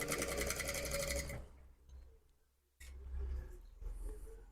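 A sewing machine sews a zipper onto a sleeveless sweatshirt jacket, a fast rhythmic whir for over a second that stops, then quiet handling noises before a softer restart.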